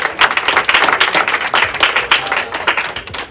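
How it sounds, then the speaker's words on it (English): A comedy club audience claps and cheers in a loud, dense burst of applause that runs steadily throughout, close and enthusiastic with no voice on top. "I want you to clap for my man Bobby Dodds"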